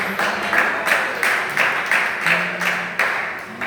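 A church congregation claps in a steady rhythm, about eight beats of group clapping across the stretch, fairly loud and close, with a faint low tone underneath and no clear talking.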